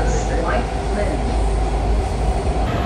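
An underground metro train in Washington, DC rumbles along its tunnel, a loud continuous low roar with rail noise filling the carriage.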